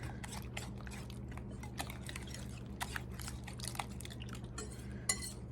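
A whisk beats eggs mixed with other ingredients in a bowl for a tater tot casserole, making quick, uneven metal clicks and scrapes against the bowl close by over a steady low kitchen hum, with no talking.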